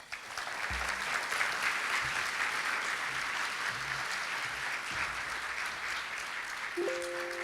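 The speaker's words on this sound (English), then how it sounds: "please give a warm round of applause for Mayor Stephen Choi" An audience at a business luncheon applauds Irvine's mayor, Stephen Choi, with a sustained, fairly distant round of clapping, some low rumbles under it and a brief tone near the end.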